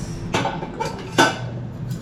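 Cooked noodles being mixed in a bowl, with a few light clinks and scrapes of utensil against dish over a low steady background.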